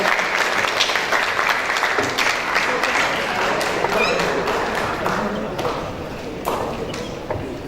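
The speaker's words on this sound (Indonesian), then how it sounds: "silakan duduk, tepuk tangan untuk teman-teman yang sudah berpartisipasi" Sustained clapping from a school event audience, steady and dense throughout, tapering slightly toward the end.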